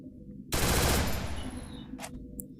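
Rapid automatic gunfire in a video game bursts in loudly after a short quiet start and rattles on continuously, trailing off into softer game sounds and a few brief clicks.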